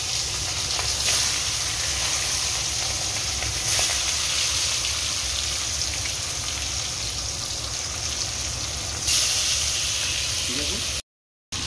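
Fish frying in hot oil, a loud, continuous sizzle and hiss with sharp spattering bursts throughout, close by.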